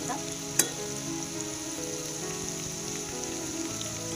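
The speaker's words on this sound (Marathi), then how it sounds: "अशा प्रकारात तर आपली भेंडी छानपैकी तळ्या गेली" Okra frying in hot oil over a medium flame, a steady close crackling sizzle with a single sharp pop near the start, no voices.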